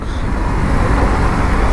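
A car rushes past on a wet monsoon road, a loud broadband roar of tires and engine filling the short moment.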